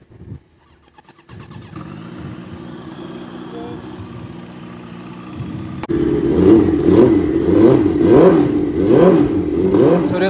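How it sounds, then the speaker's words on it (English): A turbocharged Kawasaki ZX10R superbike at a drag strip: quiet mechanical ticking and a low idle, then near six seconds a loud close engine surges into repeated rising revs with rhythmic pulses. "So this is my first pass on a new turbocharged ZX10."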